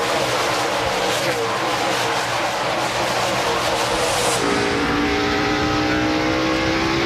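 NASCAR stock cars on fresh tires roaring away at a green-flag restart during the 2002 Food City 500, a loud dense engine roar that shifts to a rising pack of revving engines as the field accelerates.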